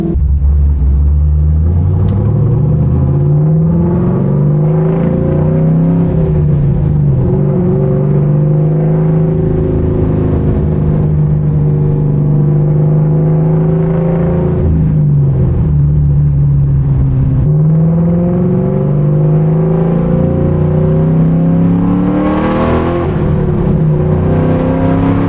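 An LS3-swapped Chevrolet Camaro engine runs hard on a dyno, with a loud, continuous rumble that rises and falls through several rev sweeps, close and alone.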